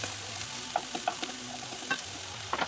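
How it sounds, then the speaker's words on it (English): Sweet peppers being stirred into a sizzling chicken curry in a hot pan, a soft continuous fry with scattered scrapes and clicks of the spoon against the pan, close and fairly quiet. "Go the sweet peppers and give it a good stir."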